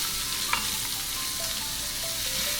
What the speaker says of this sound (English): Let the titillating sizzle take you away.